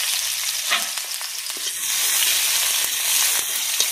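Chopped onions sizzle and crackle steadily in hot oil in a pan, a dense, close frying hiss with occasional stirring scrapes and no talk.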